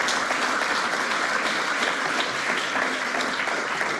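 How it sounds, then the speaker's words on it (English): An awards ceremony crowd gives a round of applause, a dense, even roar of clapping that holds steady from start to finish. "we'll give them another round of applause"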